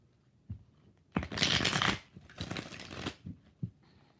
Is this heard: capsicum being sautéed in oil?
no